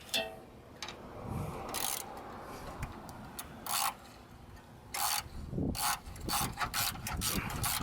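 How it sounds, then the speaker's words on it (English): Close ratchet clicks snugging a 10mm bolt on the radiator bracket of a 1997–2004 Ford F150, coming in short bursts of rapid pawl clicks separated by brief pauses. "Snug up the bolt."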